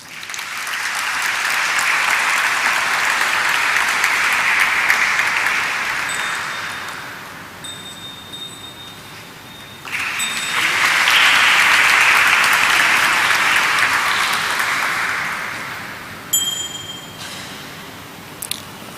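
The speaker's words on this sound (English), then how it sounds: "Can I have a round of applause, please?" Audience applause at a ceremony presenting mementos to guests, sustained broadband clapping in two long waves separated by a brief dip, with a few faint metallic pings near the end.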